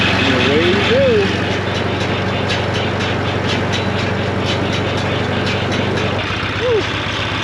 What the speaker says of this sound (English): Let's put you in fourth gear. Bring these RPMs just up to smooth.